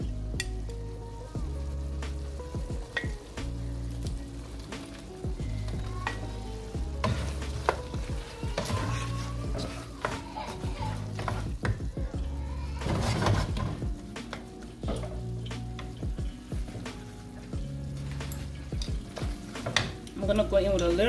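Shrimp sizzle and crackle in a hot pan in a salmon and shrimp dish, with repeated scraping stirs and clanks of utensils, and a voice speaks intermittently over the frying.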